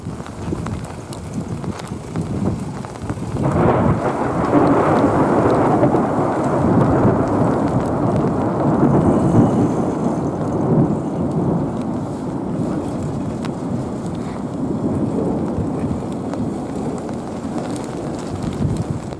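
A loud, close thunder crack erupts into a long rolling rumble, with steady heavy rain and gusts of wind throughout.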